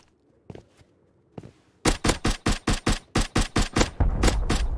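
Bolt-action rifle fire in the survival game Rust, a rapid string of about ten sharp, loud shots in close succession after a couple of faint earlier pops, with no talk over it.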